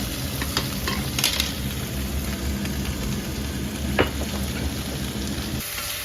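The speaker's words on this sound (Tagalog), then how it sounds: "nag-brown na yung ating tokwa. Now, we will add uh, toyo." Soy sauce hits browned tofu in a hot pan, setting off a continuous close sizzle with scraping stir strokes and a few sharp clicks of utensils, and no talking.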